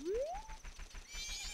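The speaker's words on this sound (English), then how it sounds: "There's my horse." A horse neighs in the Majora's Mask video game, a rising whinny that opens loud and close, followed by rhythmic game sounds and a bright chiming tone near the end.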